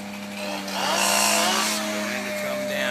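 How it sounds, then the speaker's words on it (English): Chainsaw cutting during the felling of a huge oak, its high buzzing whine swelling louder in the middle and easing slightly, steady and fairly close for a few seconds. "There's the first of the chainsaws."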